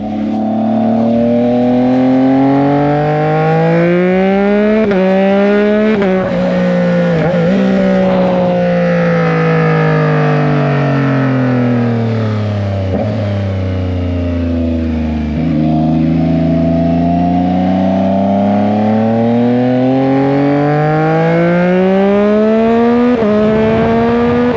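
2021 Yamaha MT-09 motorcycle with a loud aftermarket exhaust, engine revving and accelerating in long rising and falling pitch sweeps through several gear changes, close, loud and continuous with no talking.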